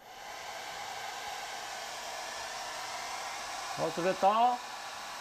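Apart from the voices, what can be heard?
hair dryer blowing cold air on strongest setting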